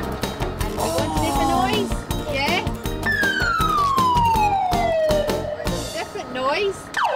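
A police van siren wails loudly in a children's programme, with a long descending tone among other siren sweeps and bright music-like sounds, while people talk over it.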